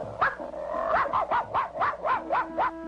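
A cartoon dog barks in a quick run of about eight yips, close and fairly loud, with no other sound around it.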